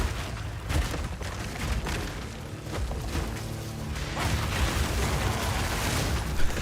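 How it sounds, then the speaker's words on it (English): Warrior skills in Path of Exile 2 set off a dense, continuous barrage of explosions, slams and crashing impacts, a busy layered game soundscape with no voices. "So many explosions, I love it."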